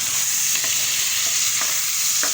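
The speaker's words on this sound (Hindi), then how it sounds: "तो उसको लग रहा है तड़का" Tadka for moong masoor dal sizzling and frying steadily in hot oil, with a few brief stirring or crackling spurts rising over the continuous hiss. No talking.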